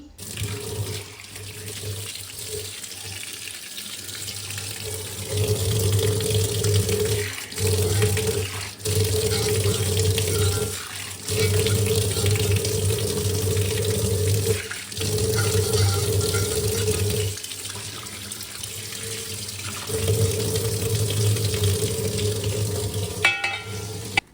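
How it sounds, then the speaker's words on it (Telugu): A seasoned kadai scrubbed and washed under running tap water, the faucet flowing loudly and continuously with brief breaks as water splashes against the metal pan close by. "సేమ్ కడాయి కూడా అలానే రుద్ది కడగాలండి"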